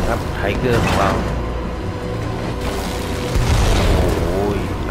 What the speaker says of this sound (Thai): นี่มีระเบิดไล่ยิงรถถังครับไทเกอร์ของเรา